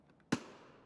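A grenade goes off in the video game Escape from Tarkov: one sudden, fairly faint blast that fades out with a short rumbling tail.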